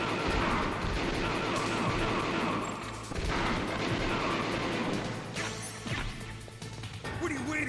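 Gunfire in Metal Gear Solid rattles in dense rapid bursts with crashing impacts, loud and close, over busy game sound, with voices speaking over it.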